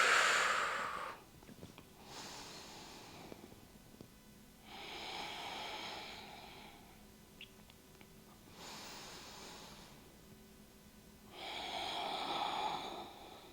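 Deep, forceful exhaled breaths during a guided abdominal breathing exercise in a core workout, four long airy whooshes spaced a few seconds apart, close and clear with no talking.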